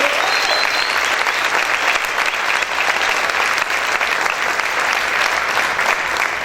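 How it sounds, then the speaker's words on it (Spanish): A church congregation claps steadily and energetically during worship, sustained applause filling the space without pause. "aplaude fuerte al Señor"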